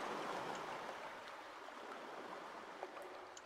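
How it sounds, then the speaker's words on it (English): Wading through water in the video game Call of Cthulhu, a soft continuous sloshing and swishing of water, fairly faint and even, fading slightly over the few seconds with no speech. "are we really going to wade through water like this?"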